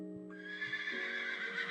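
A big white horse in a video game lets out a loud, close neigh that opens low and then rises into a long, bright whinny lasting through the clip, with faint hoof clops underneath.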